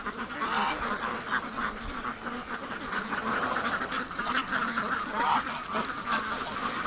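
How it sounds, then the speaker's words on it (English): A flock of Muscovy ducks in a muddy pen, giving continuous overlapping quacks and honks at close range, moderately loud and dense throughout. "Look at these Muscovies. I love these birds."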